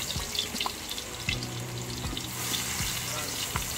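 Squid frying with plenty of garlic in a pan, a steady close sizzle with light stirring clatter, while a voice speaks in the background throughout.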